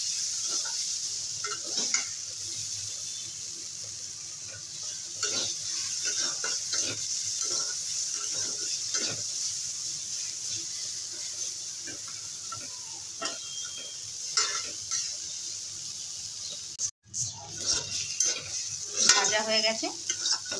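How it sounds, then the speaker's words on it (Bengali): Green chillies stir-fried in a pan, a dense continuous sizzle with steady frying hiss and scattered scraping clicks of a spatula stirring, close and fairly loud throughout, with a brief clatter near the end. "দু মিনিট নেড়ে চেড়ে একটু ভেজে নেব।"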